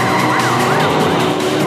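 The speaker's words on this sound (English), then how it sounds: "Roman is the one that turns on the sirens and the lights and makes it all flashy" A police car siren wails up close during a Fast Five street race scene, its pitch sweeping up and down over a car noise bed in a short, loud burst.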